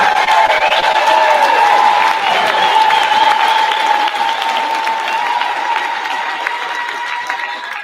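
A large audience at a political event in High River, Alberta, breaks into loud, sustained applause with cheering and whoops to welcome a speaker. The clapping stays close and dense for the whole stretch and fades slightly at the end.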